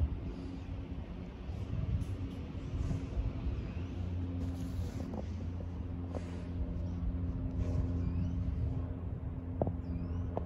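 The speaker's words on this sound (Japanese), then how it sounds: "で今下り方向の列車もやってまいりました。" A Keio Line train pulls into Hachimanyama station, a steady low rumble and hum of the arriving train with faint squeals and clicks over about ten seconds, fairly distant and without talking.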